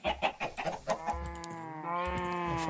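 Chickens in the game Minecraft make a quick run of rhythmic clucks, then a longer drawn-out squawking call, with no voices in the foreground.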